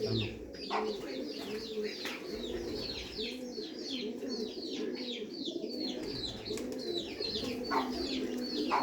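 Flying pigeons kept by a breeder coo steadily in a low, repeating rhythm, with a busy layer of chirping from other birds above. The calls continue throughout and sit close by.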